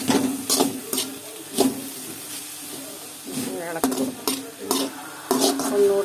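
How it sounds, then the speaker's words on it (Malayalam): A pan of thazhuthama leaf thoran, a Kerala stir-fry of greens, being stirred: sharp scraping and clinking strokes come in bursts over a soft background sizzle, with a faint voice briefly heard. "ഇടയ്ക്കൊന്ന് മൂടിയെടുത്ത് ഇളക്കി കൊടുക്കണം അല്ലെങ്കിൽ കിടന്ന് പിടിക്കും"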